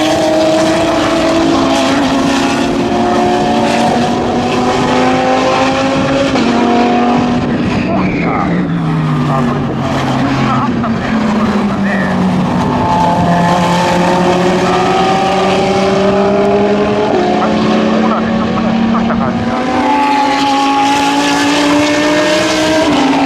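GT3 and GT4 race cars, including a Lamborghini Huracán GT3 and a Mercedes-AMG GT4, howl past at Fuji Speedway in a continuous loud stream, engine notes rising and falling with Doppler sweeps as several cars pass in succession, with commentary talk underneath.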